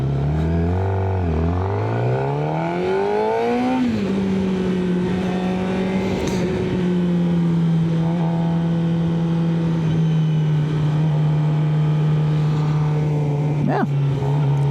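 A Suzuki GSX-R 600 sport motorcycle rides at speed, its engine note climbing as it revs and then holding at a steady loud drone under heavy wind rush, with a brief higher whine near the end.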